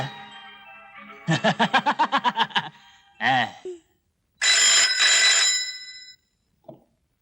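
An electronic telephone ring sounds loudly in bursts: a rapid warbling trill, a short pause, then a brighter sustained ring, ending with a brief chirp.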